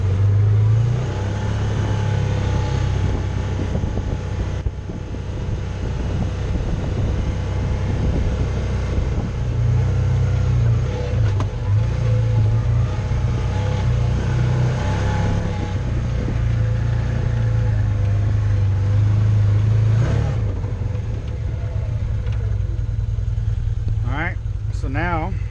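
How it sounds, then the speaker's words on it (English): Can-Am Commander XT 800R side-by-side in high two-wheel drive accelerates with a steady, loud engine drone held throughout, a voice talking over it. "we're now in high in two-wheel drive, and I'm going to accelerate and see if you want to listen and hear for anything"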